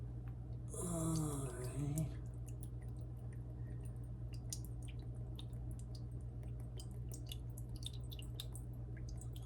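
Soy sauce from a bottle with its top still on trickles into a quarter-cup measuring cup in faint drips and small splashes. A brief gurgling tone comes early, over a low steady background hum.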